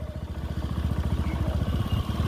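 Motorcycle engine running steadily at low revs with a rapid, even pulsing throb, close and fairly loud, as the bike begins to pull away on clutch release during a beginner riding lesson.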